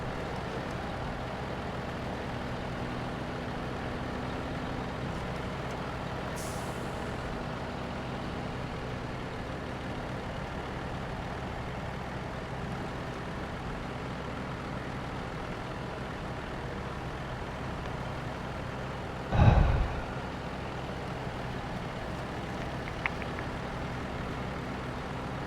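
A newly acquired truck drives in SnowRunner, giving a steady low engine drone under continuous broadband rumble that holds level throughout. A single sharp knock or hiss stands out near the end.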